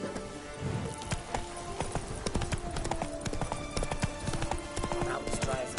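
Steady clip-clop of a horse's hooves trotting in the video game The Witcher 3, a fast even rhythm that runs throughout, moderately loud, over faint ambient game sound.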